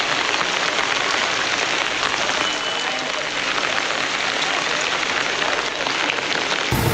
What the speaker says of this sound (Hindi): शुरुआत में ही जो बारिश हो रही है